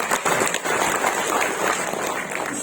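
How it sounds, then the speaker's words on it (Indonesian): Audience applause for Kang Rizal at an education office gathering, a steady wash of clapping from a crowd lasting a few seconds. "Kita kasih aplaus untuk Kang Rizal."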